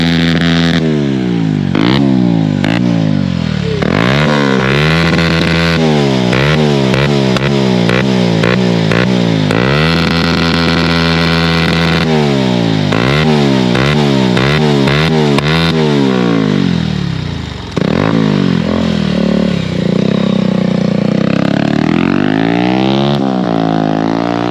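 A motorcycle engine runs after starting, revved repeatedly in rising and falling surges, loud and close, with one brief dip before the revving resumes; no talk.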